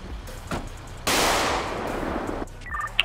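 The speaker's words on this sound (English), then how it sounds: "Popping shots at me." Gunfire aimed at the player in a video game: a sharp blast opens into a sustained noisy burst lasting over a second, then further brief cracks, close and fairly loud.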